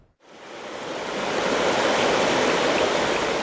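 A river flows beside a walking path on a rural route between Carcaboso and Aldehuela del Jerte in Spain, its steady rushing water swelling in and staying constant and full, close and loud with no voices.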